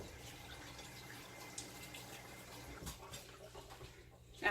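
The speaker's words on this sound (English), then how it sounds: "I quick rinse my hands / wash them before I move on to my next ingredient" Hands being rinsed under a running kitchen tap while cooking, a steady soft stream of water spattering into the sink, faint and fairly even, with a slight splash near the end.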